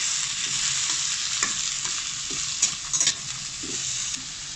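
Carrots and vegetables sizzle steadily in a hot pan with no water added while a utensil scrapes and stirs with occasional clinks, close up and without talk.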